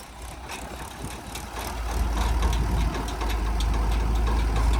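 Tractor engine revving while stuck in a farm field with little load on the rear tyres, a rough, knocking low rumble that swells louder partway through and holds steady, close by.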